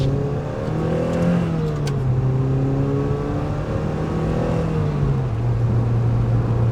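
A Mazda NC Miata with a Track Dog Racing intake drives steadily, its engine droning loud and continuous with gentle rises and falls in pitch as it cruises and shifts, with no voices.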